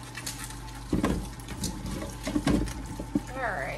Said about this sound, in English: So all I'm doing is just giving these a quick rinse.